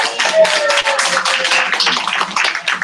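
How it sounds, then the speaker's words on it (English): Audience at an Arbonne business meeting applauding continuously, dense steady clapping from many hands filling the room for about three seconds with no talk. "we can all clap for Julie."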